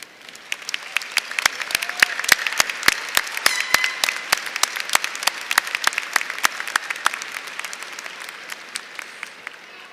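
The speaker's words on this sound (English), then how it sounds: "If they would all please stand and accept our applause for their service this morning." Audience at a fall undergraduate commencement applauds the ceremony staff, sparse individual claps at first building into steady, dense clapping that stays strong and fairly close for the whole stretch.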